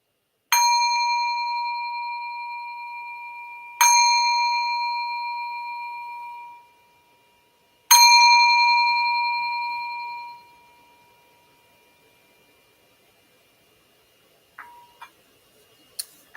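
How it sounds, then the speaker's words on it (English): Three clear meditation bell strikes, each ringing out and slowly fading, followed by a long quiet stretch and a few small faint clicks. "I'm going to start by ringing the bell."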